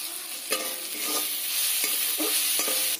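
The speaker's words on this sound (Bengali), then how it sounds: "সব মশলা কষানো হয়ে গেছে" Spices being stirred and fried in a pan for a paneer dish, an even close sizzle with several distinct scrapes of the spoon against the pan, spaced irregularly over a few seconds, no voices.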